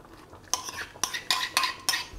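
A pork and mustard mixture stirred in a pan over low heat: five or six sharp scraping strokes at an even pace over a quiet background, close up and with no voices.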